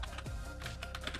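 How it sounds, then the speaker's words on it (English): Quick clicks of keys being typed on a computer keyboard, several rapid taps in a row over a low hum, nearby. "we're able to edit the text using the keyboard"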